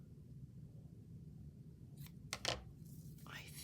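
Scissors snip through crafting material in a quiet room, a couple of brief, close cutting sounds against faint background hiss.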